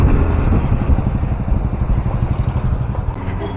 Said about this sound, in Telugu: మొసాపేటలో మాత్రం ఫుల్గా ట్రాఫిక్ ఉంటూనే ఉంటుంది